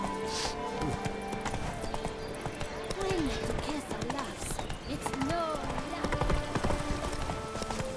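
Hooves of the horse Roach clip-clop in a steady trotting rhythm in The Witcher 3, with someone talking over them, brief tonal calls and game ambience behind.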